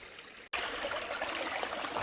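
Creek water flows and trickles along the Onion River on the Superior Hiking Trail, a continuous rushing, splashy wash broken by a brief cut near the start, with no voices.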